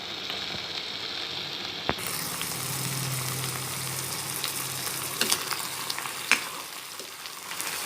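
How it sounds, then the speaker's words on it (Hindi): Chicken pieces frying in a pan with already-browned onions, giving a steady close sizzle with a few sharp clacks of stirring, and no talk. "सो व्यूअर्स यहाँ पे हमारा चिकन फ्राई हो रहा है।"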